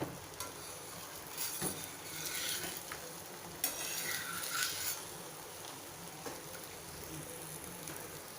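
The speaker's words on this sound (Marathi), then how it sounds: "गॅस मध्यम ठेवायचा आहे आणि छान पराठा भाजून घ्यायचा आहे" A paneer paratha roasts on a pan over a medium gas flame, giving a soft steady sizzle with a few scraping and stirring clatters, close and fairly quiet.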